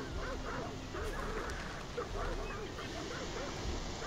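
Several dogs bark and yip in the game Hunt: Showdown, repeated short barks at a moderate distance over a steady windy background.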